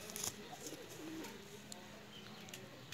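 Golden breeder female pigeon cooing softly at close range, low murmuring coos over a steady background hiss, with faint bird chirps mixed in.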